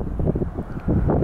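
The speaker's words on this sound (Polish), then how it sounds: "Wczoraj i dzisiaj silna wichura" A strong gale blows along an ocean coast, buffeting the microphone with a loud, gusty low roar that swells and dips over the short stretch, with no voices.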